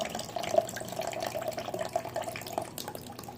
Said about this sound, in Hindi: तो जैसे ही मैंने यहाँ इसको डाला तो पानी सक करने लगा।